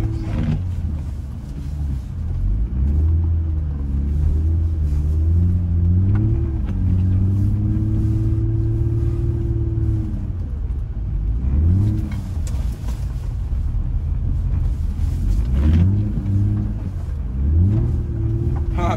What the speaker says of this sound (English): Big slow-mo drift